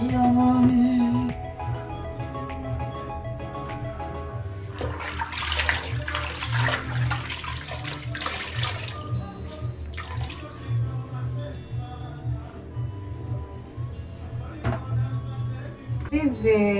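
Water runs steadily from a tap into a toilet-top hand-washing sink, the same water later used to flush the toilet, a continuous close splashing flow lasting throughout, with a voice talking over it.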